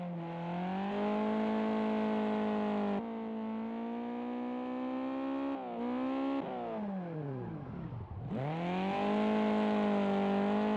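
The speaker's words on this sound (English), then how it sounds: "You can just hear the engine struggling, trying to keep the revs up." A video game car engine straining at full throttle in fifth gear, a loud buzzing drone holding high revs, briefly dropping and dipping sharply before climbing back up.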